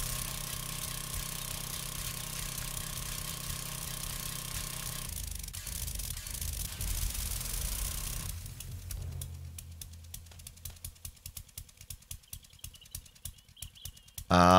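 A power auger grinds into the ground to dig out a land claim in the video game 7 Days to Die (Alpha 16). A steady, loud grinding runs for several seconds, then breaks into a fast train of sharp clicks.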